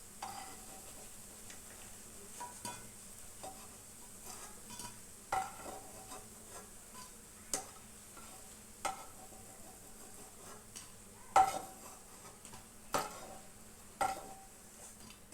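Phulki fritters frying in oil with a faint, steady sizzle. Scattered clinks of a utensil against the pan punctuate it, and no one speaks.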